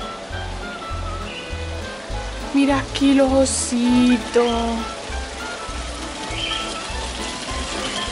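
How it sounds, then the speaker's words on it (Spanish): A waterfall pours in steady, broadband rushing water at a cactus park attraction while people talk over it. "Qué cascada más chula de agua, por favor."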